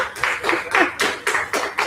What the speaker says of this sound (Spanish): Os volvemos a dar un aplauso, que yo creo que es más que merecido.